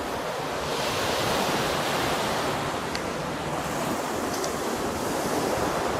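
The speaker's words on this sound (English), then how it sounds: "Can you hear me over them waves there?" Waves wash continuously against the Thames foreshore, a dense broadband surf roar with some wind, steady and fairly close, with no talking.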